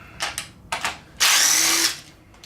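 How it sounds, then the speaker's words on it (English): A DeWalt 3/8 impact wrench removes fuel rail nuts during an LS engine teardown: two short bursts, then a sustained whirring run of about a second, close and loud, with no talk. "This is also the DeWalt 3/8 impact."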